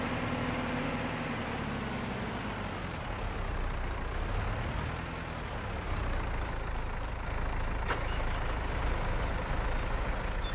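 A tractor engine running in Farming Simulator, a steady loud low drone with a slight dip and swell in pitch partway through, continuous and close.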